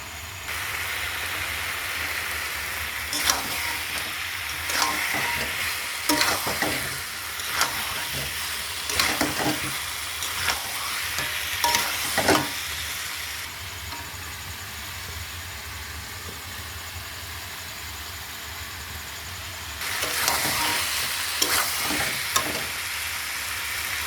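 Spice masala for Bengali egg curry sizzling in hot oil in a pan, with steady frying hiss broken by repeated scraping stirs of a spoon, louder bursts near the start and end.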